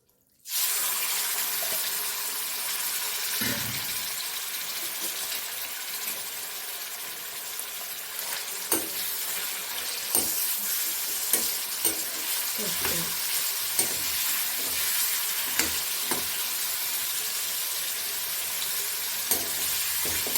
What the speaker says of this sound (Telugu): ఆయిల్ కొంచెం వేడవ్వగానే ఇందాక కలిపెట్టుకున్న చికెన్ని ఇందులో వేసేయాలి